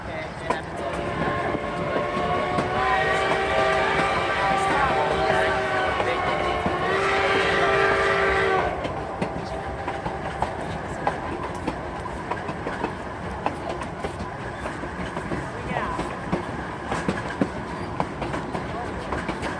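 Cumbres & Toltec narrow-gauge train rolling across the iron-and-steel Lobato trestle, a steady rumble with strong tonal whistle-like harmonics for the first half, then continuing clatter and rail noise with occasional people talking nearby.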